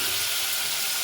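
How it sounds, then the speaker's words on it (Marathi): A spoonful of water hits a pan of frying chili and turmeric spice mix, producing a short, close burst of hissing, splashing sizzle lasting about a second. "करपू नये म्हणून दोघं थोडंसं 1 चमच्यावर पाणी टाकायचं"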